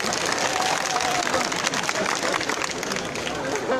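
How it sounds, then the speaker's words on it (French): An audience at a Mawlid celebration in Abidjan applauds with dense, sustained clapping and crowd noise that fills the whole moment, with voices mixed into the din. "Applaudissez-moi."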